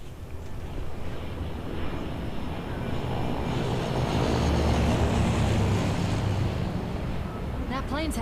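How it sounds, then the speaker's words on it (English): A C-130 transport plane passes overhead in Left 4 Dead 2 on the Dead Air map, a steady low rumbling drone that swells through the middle and eases off slightly toward the end. "That plane's headed right for the airport."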